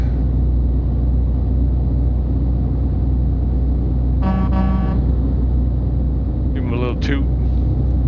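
A truck horn in the video game Euro Truck Simulator 2 toots twice over a constant low engine rumble: a steady blast, then a shorter wavering honk moments later.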